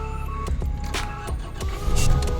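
Toyota Hilux Vigo 2.5 E 4WD engine cranking and starting inside the cab, with sharp key or switch clicks and a low steady rumble settling into idle, fairly close and loud.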